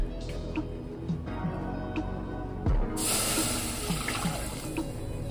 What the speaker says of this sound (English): I'm gonna go ahead with about 2 cups of white distilled vinegar.